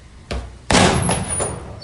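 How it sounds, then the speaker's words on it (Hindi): A door slammed shut at a medical college in Lucknow: a softer knock, then a loud sharp bang that rings briefly, followed by fainter rattling thuds, close and with no voices. "उन्होंने धाड़ करके दरवाजा करा"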